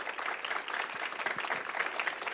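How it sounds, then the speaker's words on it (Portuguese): Applause from an audience at a corporate client event, steady dense clapping filling the whole stretch at moderate level with no voices over it. "uma salva de palmas aqui para o Felipe, para o Robert."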